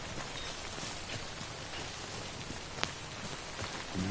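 Timefall rain in Death Stranding pours steadily onto the ground, a dense, even hiss of raindrops with one brief sharp tap partway through and no talking.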